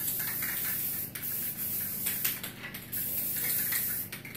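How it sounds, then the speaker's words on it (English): Spray of clear coat misted onto a reproduction skull being aged with coffee staining, a steady close hiss running the whole time with brief pulses where the nozzle is pressed again. "So now I can put a clear coat on it."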